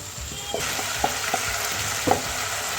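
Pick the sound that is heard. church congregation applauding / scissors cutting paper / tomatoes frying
tomatoes frying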